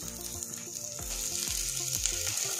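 Peas and raisins frying and being stirred in a hot pan while making a puffed-rice snack, a steady close sizzle with periodic scraping strokes of the spoon.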